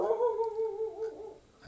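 A dog whimpers in a soft, drawn-out whine lasting over a second, close by and fairly quiet, with no talking.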